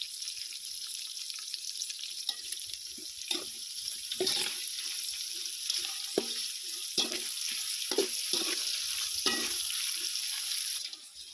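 Water poured into a cooking pot at an outdoor village wedding meat feast: a steady close hiss and splash running throughout, broken by a few soft knocks and clanks, with no voices.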